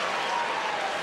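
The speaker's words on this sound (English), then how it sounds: "listen to the cheer from the crowd" A tennis crowd at the 2007 Australian Open cheers and applauds after a Hawkeye challenge during a tie-break, a dense, even roar of many hands and voices heard from a distance in a large stadium.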